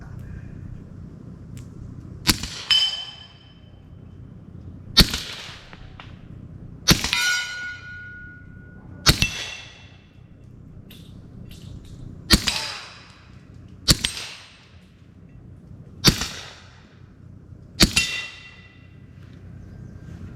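FN 545T pistol fired through a magazine, sharp loud shots spaced about two seconds apart with ringing metallic tails, outdoors and close, no talking.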